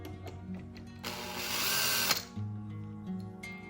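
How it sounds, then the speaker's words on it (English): Cordless power drill backing screws out of an RC car, a steady high whine for about a second then stopping, close and loud, with quieter handling clicks around it. "I'm going to try and take off these screws without stripping them."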